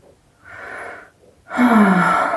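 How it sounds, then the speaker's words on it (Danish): A deep breath taken close to the microphone: a drawn-in inhale, a short pause, then a louder, longer exhale with a wheezy, airy edge. "Ledsaget af det her dybe åndedræt."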